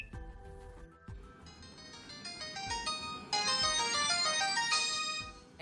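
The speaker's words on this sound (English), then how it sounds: "I just got woken up by my pay-as-you-go phone ringing" A pay-as-you-go mobile phone rings with a bright electronic melodic ringtone that repeats and grows louder over several seconds, heard alone without talk.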